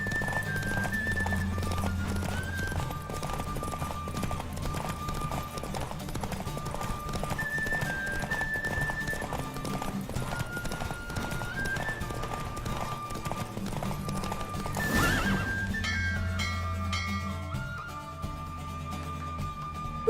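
Rapid hoofbeats of a galloping horse in a race in The Witcher 3: Wild Hunt clatter steadily, with a loud whinny near the end over a persistent rumbling background.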